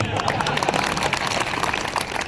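An audience at a meeting of polling booth workers in Guna applauds, giving a steady wash of many hands clapping at moderate volume through the whole short stretch.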